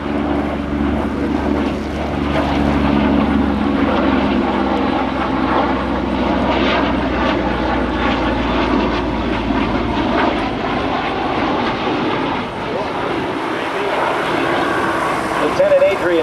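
A 2,000-horsepower radial-engine airplane and FA-18 jets drone loudly and steadily overhead at an airshow, a deep throbbing roar that holds for the whole stretch, with voices talking over it.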